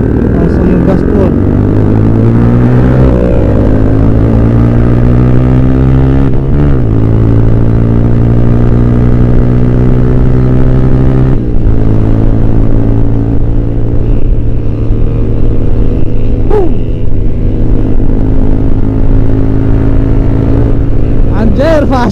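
A motorcycle engine at full throttle on a large group ride, a loud sustained roar that climbs in pitch as it accelerates, with other engines around and voices talking over it.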